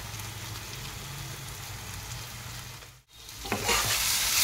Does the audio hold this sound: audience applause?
no